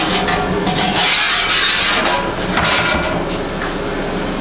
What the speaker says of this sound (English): We're going to blow all the sand off of it.